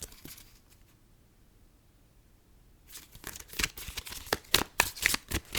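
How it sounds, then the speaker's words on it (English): A deck of tarot cards is shuffled close up, with a burst of quick riffling and flicking rising after a quiet opening and continuing to the end, loud and alone with no voice. "I'm going to shuffle a few times, see if any cards jump out."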